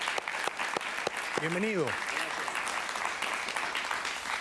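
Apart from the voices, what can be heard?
studio audience applause for a guest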